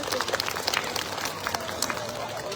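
Audience applause at a Thai Buddhist funeral ceremony honoring a revered monk, following a performance; a steady wash of clapping from a crowd, fairly distant and even, with scattered louder claps throughout.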